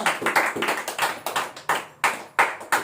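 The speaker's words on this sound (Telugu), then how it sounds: "గట్టిగా చప్పట్లు కొడదాం." Audience in a church sermon clapping loudly together, a series of sharp, rhythmic claps in quick succession, close and strong, with no talk over them.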